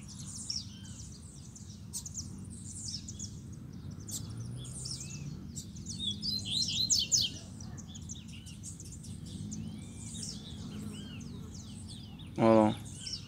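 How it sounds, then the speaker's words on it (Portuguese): A campo canary sings from a cage outdoors, faint high chirps and short trills repeating over a low background rumble, with a brief louder sharp sound near the end. "É um canário do campo."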